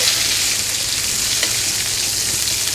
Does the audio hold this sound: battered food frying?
yes